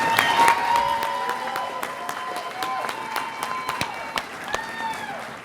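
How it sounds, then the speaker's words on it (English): Audience applause greeting a presenter at a university live event, clapping spread through the room with bright tonal sounds running over it, fairly even in level throughout. "Bring a round of applause for Casey."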